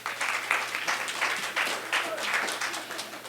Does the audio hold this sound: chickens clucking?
no